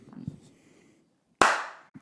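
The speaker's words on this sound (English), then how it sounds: "Do you want me to clap again?" A single sharp hand clap rings out close by, loud and crisp with a quick decay, after a stretch of quiet indoor talk and a short pause.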